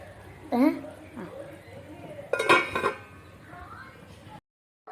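Metal clatter of a lid set onto a cooking pot of prawn curry, two or three distinct clanks at close range between quiet kitchen sounds, with a voice murmuring briefly.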